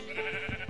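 Sheep bleating in the game Minecraft, a couple of short nasal bleats in quick succession over a steady game background, fairly close and moderately loud with no talking.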